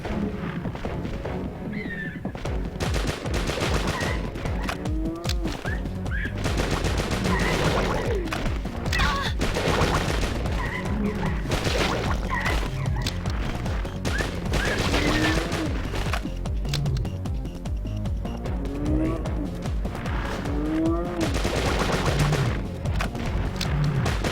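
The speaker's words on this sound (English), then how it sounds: "Let's try our new gun." Rapid bursts of gunfire from a newly acquired weapon in the video game Destiny 2, loud and dense, with shots and impacts repeating continuously across a busy, chaotic soundscape.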